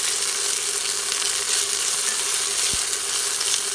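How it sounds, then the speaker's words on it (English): Green onions browning and frying in a pan for a pork stir fry, a steady close hiss of sizzling oil that holds evenly throughout with one faint low knock near the end. "really browning up these green onions"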